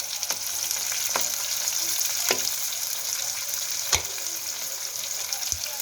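Okra frying in a pan with spices to come, a steady close sizzle with occasional sharp scrapes and stirs of a spoon, heard alone without speech.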